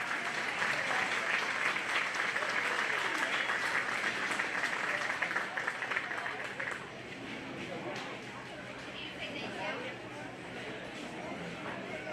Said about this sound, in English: Let's give a big round of applause for our Baking Buddies class